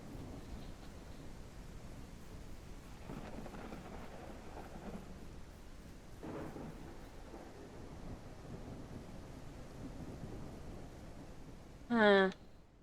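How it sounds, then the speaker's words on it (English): A thunderstorm in the Ranch Simulator game, with soft, steady rain and low, faint rumbles of thunder rolling in the background, ending with a brief sharp sound. "Oh, it's thundering."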